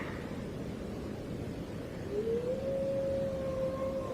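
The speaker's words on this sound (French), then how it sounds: "On entend le cri du loup." A wolf howls in the fantasy video game Guild Wars 2, a single long tonal cry rising and then holding steady. It comes in partway through over a quiet, hissy ambient background and is moderately loud.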